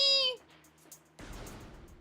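A cat meows at the start, a short high voiced cry heard up close before fading into quiet room noise.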